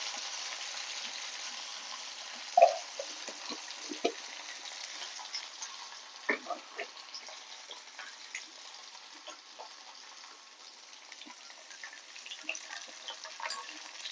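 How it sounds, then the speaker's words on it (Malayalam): A soft, steady sizzle of onions, spices and curry leaves frying in oil for a tomato curry, with light scattered pops and a few stirring clicks, quiet and close. "നല്ലതുപോലെ വറുത്തെടുക്കുക."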